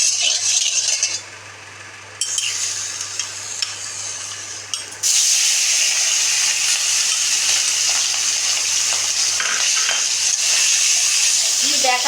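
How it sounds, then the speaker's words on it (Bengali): Shrimp frying in hot oil in a home kitchen, a continuous loud hiss and crackle that dips briefly and then returns at full strength. "চিংড়ি মাছটা ভেজে নিচ্ছি"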